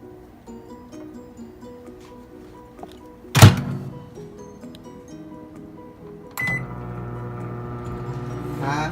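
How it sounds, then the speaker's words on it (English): A microwave oven cooking rice hums steadily at a moderate level after a sharp thunk as its door shuts, and its tone changes at a second click a few seconds later as the heating cycle starts, with no talk. "You're going to place it in the microwave for"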